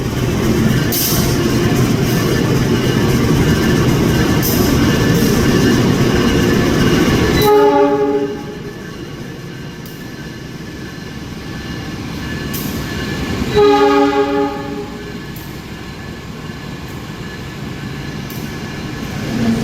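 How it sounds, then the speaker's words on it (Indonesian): An old diesel locomotive on an Indonesian passenger train roars loudly nearby, then cuts to two long, musical horn blasts separated by a pause, with rail rumble in between. "kita bakal dengar suara deru lokomotif, bakal dengar suara semboyan 35, klaksonnya dari lokomotif ini"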